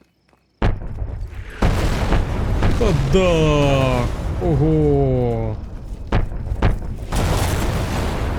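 Heavy booming artillery blasts and rumbling impacts fill a Call of Duty: Modern Warfare Remastered scene, with whistling descending tones between them and voices exclaiming over the noise.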